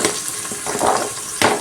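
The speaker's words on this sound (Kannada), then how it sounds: "ಇನ್ನು ವೆಜಿಟೇಬಲ್ಸ್ ಎಲ್ಲ ಹಾಕ್ತಾ ಇದ್ದಾರೆ" Peas and carrot dropped into a hot pan for vegetable pulao, a steady close sizzle of frying with brief stirring scrapes and a louder burst of hissing near the end.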